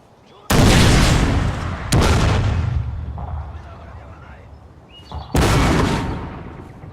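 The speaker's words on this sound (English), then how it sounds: "He's gonna start shooting at my archers with his cannons." Armstrong gun cannons fire during a Shogun 2 multiplayer siege battle, three loud booming shots spaced a few seconds apart, each rolling off into a long rumbling decay.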